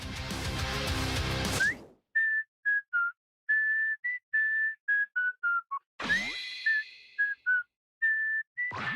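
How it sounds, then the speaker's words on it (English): A character in Dragon Ball The Breakers whistles a jaunty tune of short, clear notes with brief gaps, close and alone, set between two swells of game music. "Whistling and doing a little dance, Trunks wonders what in the world he's doing."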